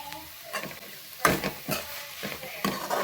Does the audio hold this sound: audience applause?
no